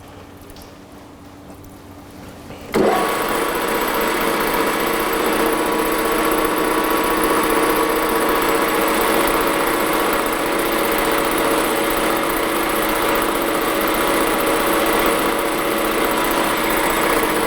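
A metal lathe starts abruptly after a quiet moment and runs continuously while center drilling, with a faint metallic whine and a constant, even drone throughout.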